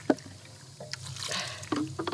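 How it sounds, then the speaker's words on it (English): Water trickling and dribbling from a faucet at a hermit's forest home, a soft, steady flow with occasional drips and splashes, fairly quiet and heard alone. "I've got a faucet installed."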